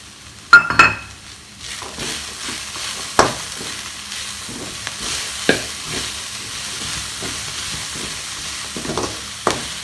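Carrots and beans sauté in oil in a pan, a quiet sizzle punctuated by sharp metallic clinks and scrapes of a utensil stirring against the pan at irregular intervals.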